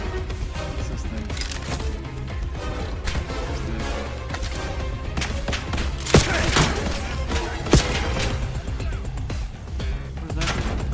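Rapid automatic turret fire and scattered explosions in the Call of Duty: Black Ops 7 video game crackle continuously through a busy battle, with a few sharper loud cracks standing out.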